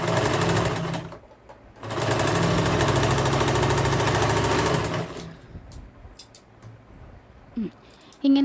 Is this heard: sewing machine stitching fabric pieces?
yes